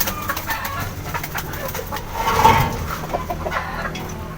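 Birds call inside a pigeon loft where an intruding wild bird has got in among the pigeons, with repeated clucks and coos at close range, rising briefly in the middle, over a steady hum.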